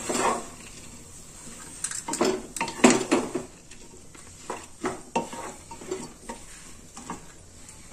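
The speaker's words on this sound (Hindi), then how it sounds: "अच्छे से इसको मिक्स कर देते हैं।" Vegetable oats are stirred in a pan, a spoon scraping and clinking against the metal in uneven strokes over a faint sizzle, close and distinct with no voices.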